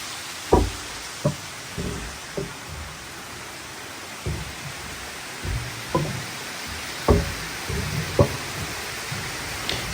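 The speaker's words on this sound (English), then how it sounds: "You can hear the hollow noise here because these pieces of concrete are on top of a levada" Hollow knocks on concrete slabs laid over a levada in Madeira, about ten separate dull thuds at irregular intervals, fairly close, over faint background hiss.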